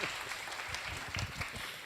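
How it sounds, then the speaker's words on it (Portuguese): A round of applause from an audience at the close of a minicourse session, steady dense clapping held at moderate level throughout. "salva de palmas"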